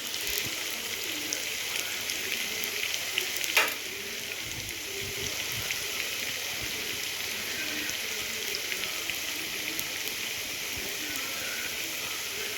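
Chopped big onion fries on low heat in hot oil in a small kadai, a steady, faint sizzle that keeps going. There is a brief clatter partway through.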